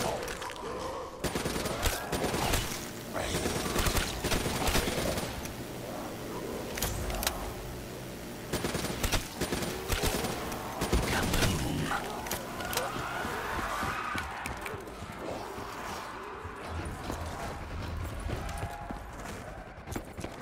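Rapid video-game gunfire in Call of Duty Black Ops III Zombies on the Kino Der Toten map, dense bursts and cracks running almost continuously under game noise and occasional talk.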